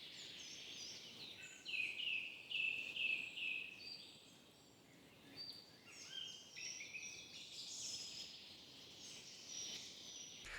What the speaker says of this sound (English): just the forest ambience to go in the background